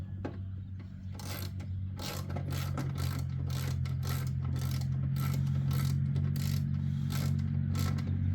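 Close ratchet clicks in quick bursts over a steady low motor hum as a part is bolted onto a 1982 Honda C70 Passport motorcycle.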